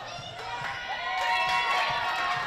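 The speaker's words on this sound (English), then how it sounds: "If you hear the roar of the crowd" Crowd at a ninja obstacle course competition cheering and shouting, a dense roar that swells louder halfway through and holds, fairly close.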